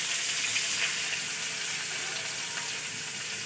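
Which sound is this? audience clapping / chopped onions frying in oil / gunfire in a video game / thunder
chopped onions frying in oil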